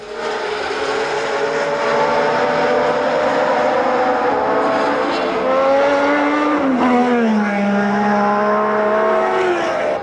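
1979 Formula 1 Ferrari race cars scream past at high revs, loud engine whine rising and dropping in pitch as they pass close by, with a continuous roar throughout.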